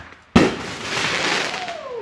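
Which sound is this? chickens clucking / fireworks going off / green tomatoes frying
fireworks going off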